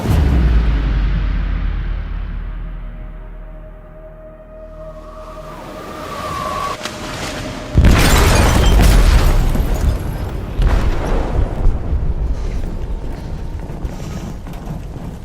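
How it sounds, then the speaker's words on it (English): An explosive detonating in a ship's hold in the video game Detroit: Become Human, a deep rumbling boom that bursts in loudly midway after low creaking and a tonal hum, then rolls on as heavy crashing and groaning metal. "They detonated an explosive in the hold."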